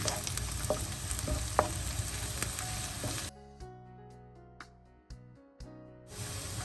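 Grated ginger and chopped green chillies sizzle loudly in hot oil for rava upma, a steady frying hiss that drops off sharply midway, then returns at full strength.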